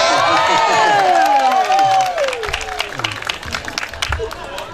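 A staff party crowd breaks into loud, dense applause mixed with whistles and cheering shouts, then settles into lighter scattered clapping and hubbub.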